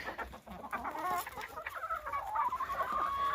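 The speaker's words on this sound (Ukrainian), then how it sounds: "Бачите, яка малесенька ось курочка." Chickens, including a small hen, cluck and chatter in a rural village yard, a busy continuous stream of fowl calls that stays close and fairly loud throughout.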